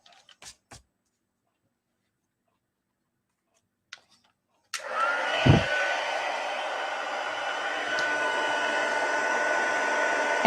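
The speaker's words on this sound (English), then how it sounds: "Back in with our heat tool." A handheld craft heat tool blows hot air over a holiday card with embossing, switching on after a few light clicks and then running as a steady, close whooshing drone, with no voices.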